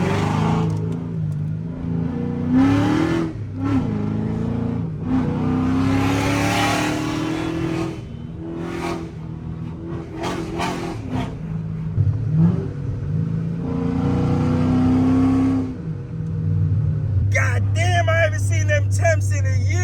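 A Chrysler 300C with a 5.7L HEMI V8 revs and accelerates in rising and falling pulls, its engine note climbing in pitch several times while someone talks over it.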